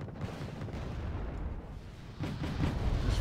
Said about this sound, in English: I'm having a feeling that's super heavy artillery